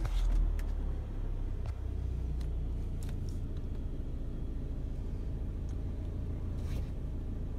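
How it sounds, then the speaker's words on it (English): A 2015 Ford Transit T350 high-roof long-wheelbase van with about 99k miles idles after starting, a steady low engine rumble heard close with a few faint clicks and knocks on top. "Now I'll turn the vehicle on for you."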